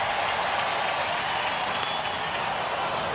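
Baseball crowd at Oracle Park during an Astros–Giants game cheering and applauding in a dense, steady roar that stays loud and even for a few seconds.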